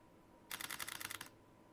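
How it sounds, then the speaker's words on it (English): A camera shutter fires a rapid burst of about seven or more crisp, close clicks in under a second for a seven-exposure bracketed sequence, with quiet before and after. "when I press and hold the shutter button, the camera will take 7 photos"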